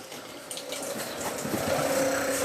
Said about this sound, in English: Got air in the line. It's gonna push out whatever water it has excess in.